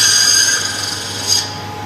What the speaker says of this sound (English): I'm getting myself an analog copy machine